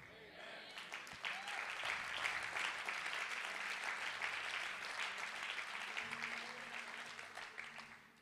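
A church congregation applauds a guest speaker, with dense sustained clapping and scattered cheers that swell quickly and hold steady for several seconds before tapering, while a low musical tone lingers underneath.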